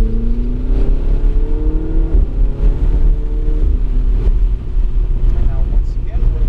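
A Ferrari 488 GTB on track at Kansas Speedway accelerates hard at full throttle, its engine note climbing steadily and close up inside the cabin, with wind rush throughout and a voice talking over it.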